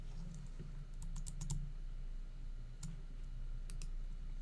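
A few light, close clicks from a computer mouse or keyboard come in small clusters over low steady background hum, with no talking.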